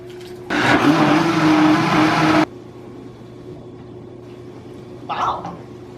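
A blender whirs loudly for about two seconds, blending soup made with garlic, salt and cumin, then cuts off abruptly, followed by quiet room tone and a brief faint clatter.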